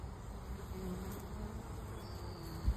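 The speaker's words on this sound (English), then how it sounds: "I've never seen a bumblebee fly into a honeybee hive" Bumblebee and honeybees buzzing at the entrance of a honeybee hive outdoors, a steady close insect drone holding throughout with a brief louder bump near the end.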